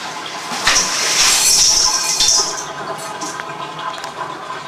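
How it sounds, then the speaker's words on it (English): Water and gravel from a fish bowl pour out into a strainer in a sink. There is a loud gushing splash at first, then a lighter, steadier trickle, close up and with no one talking. "Then we take the fish bowl and empty out everything into that strainer."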